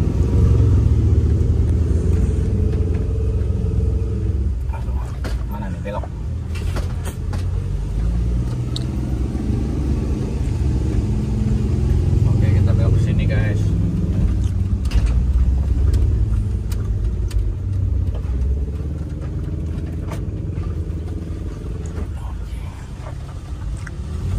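A Kawasaki Ninja 250 motorcycle ridden along a road gives a steady, loud low engine rumble with continuous road and wind noise and a few brief mechanical clatters throughout.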